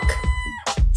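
Rooster crowing close and loud, a bright harmonic cock-a-doodle-doo call with clucking breaks, used as a bird sound in a children's English lesson.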